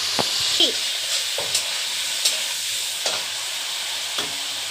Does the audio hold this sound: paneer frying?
yes